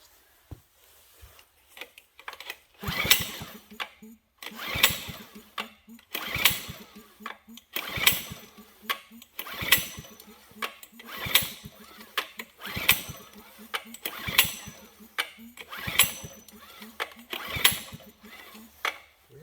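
A trash-picked, governed generator engine with a choke and no throttle is pull-started over and over: about ten regular rasping recoil pulls, each a brief cranking burst, close and fairly loud, none catching into a steady run.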